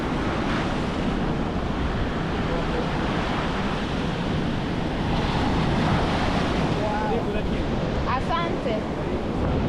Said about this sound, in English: These waves are so strong.